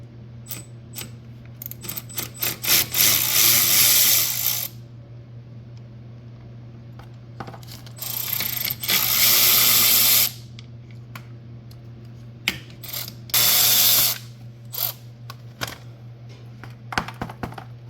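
The oil filter cover comes off a Bad Boy mower being repaired for an oil leak, with sharp metallic clicks and taps broken up by three rapid ratcheting bursts of a few seconds each, close and clear, over a low steady hum.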